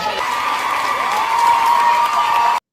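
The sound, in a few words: audience clapping in a played clip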